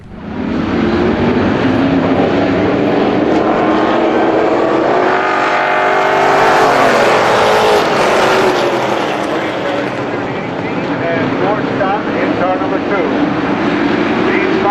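Race cars roaring around a short track on the opening lap, battling side by side for the lead, a loud continuous engine drone that swells and fades as the pack passes, with an announcer talking over it.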